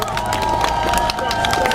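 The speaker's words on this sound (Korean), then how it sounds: "큰 박수 부탁드립니다." A crowd at a Korean political campaign rally for a Gyeonggi Province governor candidate claps and cheers in a loud, dense, continuous burst of applause with a mixed murmur of voices.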